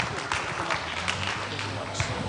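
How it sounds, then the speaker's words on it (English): An audience at the unbound Bahrain tech event applauds, a dense wash of clapping that holds steady throughout, with a voice speaking over it. "Keep the applause. There we go. Keep it up."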